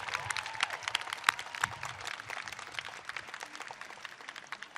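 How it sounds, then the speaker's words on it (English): An audience applauds after the national anthem at a governor's inauguration, steady dense clapping from a crowd heard at a moderate distance. "let's give a round of applause to our great talent, Parajita Bastola, for that amazing anthem"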